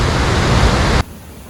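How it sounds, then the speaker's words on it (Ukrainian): Probiy waterfall in a Carpathian river canyon at Yaremche roars as a loud, dense wash of falling water for about a second, then cuts abruptly to a much quieter hiss. "Пробій вважається одним з найпотужніших водоспадів Карпат. Хоч він не дуже високий, але потік води дуже сильний."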